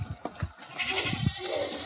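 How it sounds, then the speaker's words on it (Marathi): Goats bleating at the busy Sangola livestock market, a few short bleats over a crowded, murmuring background, fairly close. "हे बघा शेळ्या फिरवायला चालल्यात."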